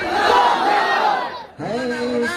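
A crowd at an Islamic seminary gathering answers a Takbir slogan call with a loud, massed chant of voices, a brief dip, then a second unified shout.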